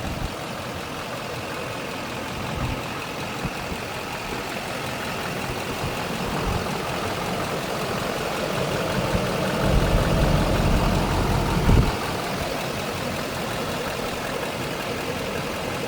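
A 2007 GMC C4500 Topkick truck idles with the hood open, a steady, fairly quiet low engine rumble that holds even throughout, with a brief deeper swell near the end.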